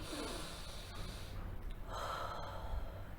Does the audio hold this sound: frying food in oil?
no